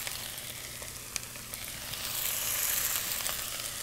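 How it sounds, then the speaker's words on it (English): Raw shrimp hitting a hot pan for shrimp tacos, setting off a steady, loud hiss of frying that swells in the second half; no talking. "So I'm going to add the shrimp to my pan."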